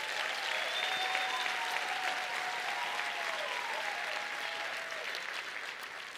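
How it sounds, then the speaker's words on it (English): Applause from a large crowd at a University of South Africa spring graduation ceremony in Cape Town, steady and dense for about six seconds before easing slightly, with a faint whistle-like tone drifting over the clapping. "Can we give a round of applause to that?"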